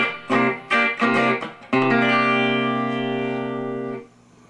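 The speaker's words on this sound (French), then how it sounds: "c'est le pick-up du bridge. Lui, il sonne un peu comme ça, écoutez bien." Electric guitar on the bridge pickup with a bright, trebly tone: a few quick plucked notes, then a sustained ringing chord that slowly fades, with light effects.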